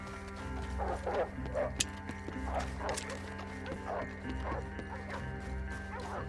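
Mangy dogs bark in Red Dead Redemption gameplay, a series of moderate, irregular barks and yips over a low steady game ambience, with faint hoof-like clopping underneath.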